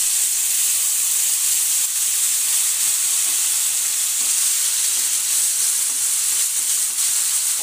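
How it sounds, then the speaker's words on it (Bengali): Small fish fry in hot oil with green chillies, giving a steady, loud, close sizzle and hiss that continues unbroken, with no voices. "একদম বেশ সুন্দর মুচমুচে করে ভেজে তুলে নেব।"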